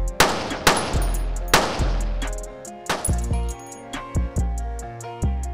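Gunfire is aimed at a flat screen TV, producing a series of sharp, loud shots in an irregular rhythm, several quick bursts with ringing tails and later shots spaced more tightly, with no talking.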